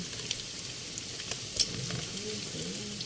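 Previously fried marinated pork sizzles steadily in a hot pan, a constant close crackle of frying with a few sharper pops and light utensil taps, no talking.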